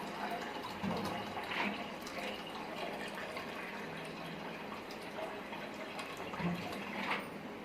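Water poured into a pot holding milk, a steady splashing, trickling fill that runs continuously at close range with small surges, no voices over it.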